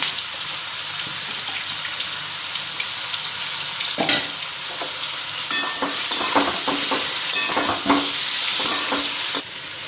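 Spice masala sizzling steadily in a pan, a bright continuous hiss with a scraping stir and several sharp clatters of a spoon toward the end, close and fairly loud, no talking.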